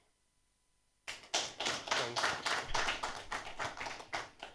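Panel discussion audience at an architecture and design fest applauding, a burst of clapping that starts abruptly after near silence and holds steady for several seconds, with a brief spoken thanks.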